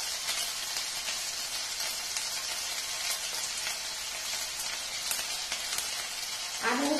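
Cinnamon, cloves and ginger-garlic paste sizzling in a pan with a steady, bright frying hiss throughout, and a brief louder stir at the end.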